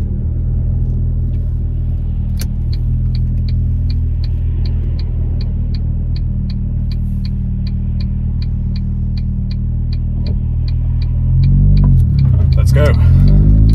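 A 2005 Ford Fiesta ST idles with a low rumble under a steady run of sharp ticks, then the engine revs up and swells loudly as the car pulls away near the end.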